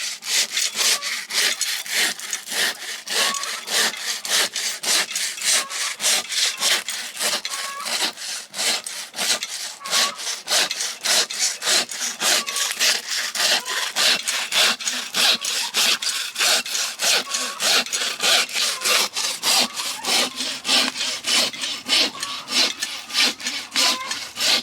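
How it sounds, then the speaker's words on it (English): A hand saw cuts down the center of a pig carcass through the vertebrae in steady, rapid back-and-forth strokes, loud and close, continuing without pause. "you want to come right down the center through the vertebrae. And just take your time with it. This is where you really need a good saw."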